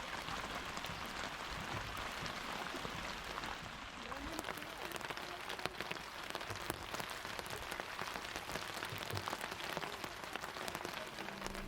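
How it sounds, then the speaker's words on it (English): Steady rain falls in Kashmir, a dense, even patter of drops on surfaces that continues without a break, close and fairly loud throughout. "Now let's listen to the sound of the rain for a while."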